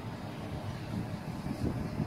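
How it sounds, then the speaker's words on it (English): Gas blowers at a digester plant that boost gas to the boiler room, giving off a steady low rumbling drone with a windy, airy texture that runs unbroken and fairly close, with no talking. "Here we have the two of the three eventual blowers"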